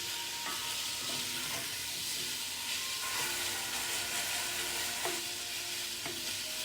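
Sausage sizzles steadily as it fries in a pot for cabbage roll soup while a spoon breaks it apart, giving a continuous loud hiss with occasional stirring scrapes.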